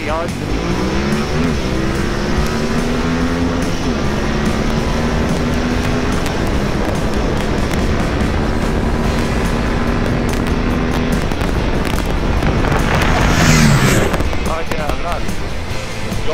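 Saab car fitted with a Throttlepunks power kit accelerating hard, the engine note climbing through rising gears with a surge near the end, loud and close, with people talking over it.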